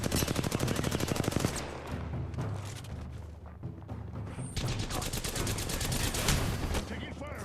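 Rapid automatic gunfire from the Apex Legends video game rattles in long sustained bursts, loud and dense, with a brief lull in the middle before more firing resumes.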